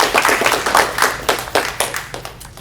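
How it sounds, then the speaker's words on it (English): A group claps for new National Junior Honor Society inductees at a school ceremony, close and lively, with individual hand claps standing out in an uneven, energetic burst. "Let's do a big round of applause for all of our new inductees."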